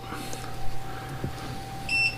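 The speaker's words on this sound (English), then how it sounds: "I don't know why that thing is beeping at me." A short high-pitched electronic beep near the end, over a steady low hum and faint room noise.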